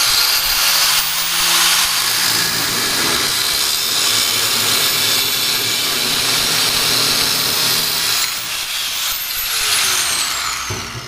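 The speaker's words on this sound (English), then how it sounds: "I'm going to use the cutoff wheel on the end of the grinder here" Angle grinder with a cutoff wheel slicing through an aluminum Harley sprocket guard, a loud, steady high-pitched cutting whine that runs continuously, briefly dipping near the end before resuming.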